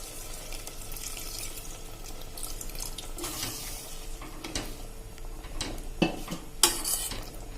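About a quarter cup of water poured into cluster beans cooking with masala in a pressure cooker pan, giving a brief splash and hiss amid scraping and stirring, with a couple of sharp metal clinks near the end.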